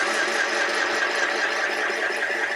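An Ambiano mini sewing machine winding thread onto its bobbin gives a steady, loud, close mechanical whir with a rapid rattling pulse running unbroken throughout.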